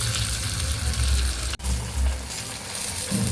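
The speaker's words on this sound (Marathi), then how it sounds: "आता ही मिरची आपण छान परतून घ्यायची आहे" Stuffed green chilies sizzle steadily in a hot pan as they fry on both sides, a dense continuous crackle broken by one brief dip midway.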